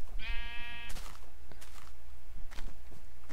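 A single wavering sheep bleat from a video game sounds close and clear, followed by scattered soft thumps and footsteps over a low background hum.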